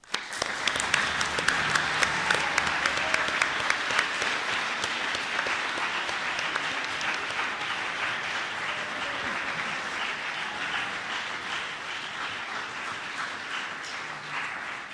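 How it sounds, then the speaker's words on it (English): Environmental Assembly delegates at a Model UN closing ceremony receive sustained applause from the hall, a broad, even wash of many hands clapping that stays steady and fairly loud for the full stretch. "Delegates of the Environmental Assembly, please rise. This is your applause."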